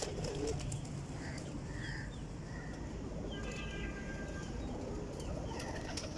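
Breeder pigeons coo softly over a steady, dense background hum, with a few low calls repeating through the stretch.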